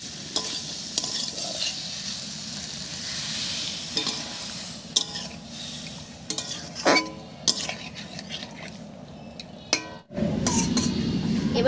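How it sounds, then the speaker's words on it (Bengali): Green tomato curry cooking in a pan as water goes in: a steady frying sizzle with scraping stirs and light clinks of a utensil against the pan, ending in a louder, fuller hiss. "এবারে একটু জল দেব।"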